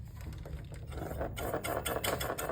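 A Jetson LX10 electric ebike's motor runs on throttle with a close, fast whirring hum and rapid mechanical clatter, becoming slightly louder partway through.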